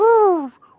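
A person's voice imitates a whistle stuck in a car tailpipe as the engine starts, a single rising and falling whistled tone of under half a second, then quiet.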